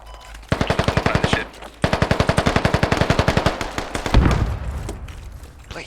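Automatic gunfire from a teammate's rifle in the Squad video game, two loud rapid bursts of evenly spaced shots close by, followed by a heavier boom that fades out.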